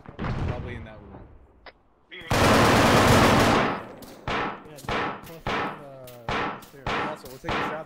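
Gunfire in the military video game Arma, a long loud burst followed by a rapid series of sharp, evenly spaced individual shots close by, preceded briefly by someone talking.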